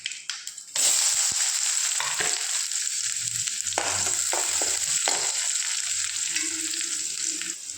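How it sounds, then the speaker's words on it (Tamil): Onion and dried red chillies sizzle and crackle in hot oil with popping mustard seeds, a steady bright frying hiss with occasional scraping stirs close by. "நெக்ஸ்ட் ஆனியனும் வரமிளகாவும் ஆட் பண்ணி வதக்கிக்கலாம்."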